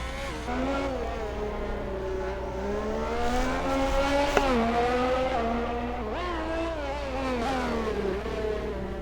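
Race cars in a racing video game lapping the Brazil circuit, several engines droning and revving together with rising and falling pitch, loud and continuous without pause.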